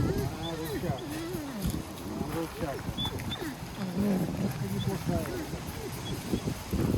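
A wolf lets out low, rumbling growls and grumbling vocalizations outdoors, with people talking nearby and some wind in the background.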